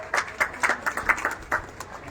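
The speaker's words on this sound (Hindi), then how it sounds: "इनके लिए एक बार जोरदार तालियां" Scattered applause at an awards ceremony for an honoree, light claps in an uneven rhythm, fairly faint and brief.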